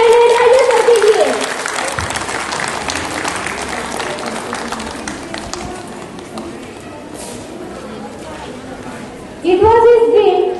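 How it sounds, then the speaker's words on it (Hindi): Applause from an audience at a women's university event for women farmers, a steady, dense patter of clapping that carries on for several seconds, with a voice speaking briefly at the start and again at the end. "जोरदार तालियां हमारे lake founder and adviser sir के लिए।"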